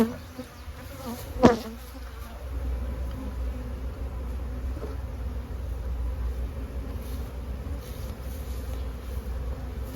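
Honeybee colony humming steadily in a nuc hive, a soft continuous drone with a brief close knock near the start, no talking.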